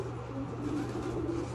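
Soft, low cooing of pigeons repeats steadily over a constant background hum, moderately close.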